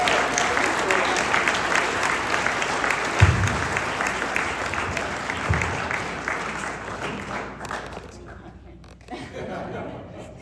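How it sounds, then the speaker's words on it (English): An audience in a lecture room applauds warmly for an introduced speaker, clapping dense and steady with some chuckles mixed in, tapering off toward the end. "Let's give a big round of applause to Brian."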